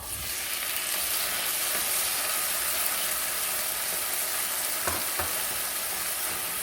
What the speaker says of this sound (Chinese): 把西红柿炒软